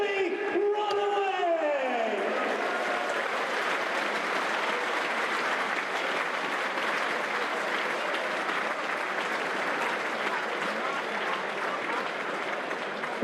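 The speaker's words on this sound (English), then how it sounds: "Can we have a round of applause, please?" Football crowd applauding at a Burnley v Bristol City EFL Championship match, a broad, sustained roar of clapping from a large stadium, opened by a brief rising shout.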